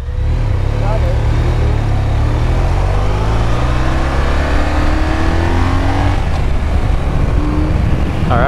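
A BMW R1200RTP police motorcycle accelerates hard for a threshold braking drill, its engine rising steadily in pitch through the gears, loud and close under heavy wind noise.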